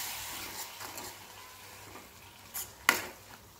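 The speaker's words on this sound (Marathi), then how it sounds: "परतून झाल्यानंतर त्यामध्ये 1 पळी हे पाणी घालायचं आहे" Water poured from a ladle into a hot pan of sautéed curry base for dubuk vada amti, a short hiss and sizzle near the end over a soft background of frying.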